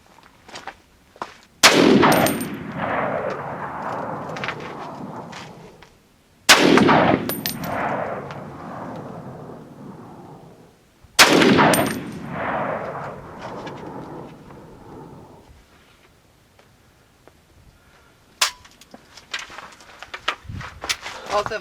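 A Saiga 308 rifle fires Hornady 150 grain .308 ammunition outdoors: three loud shots about five seconds apart, each with a long rolling echo, followed by faint metallic clicks.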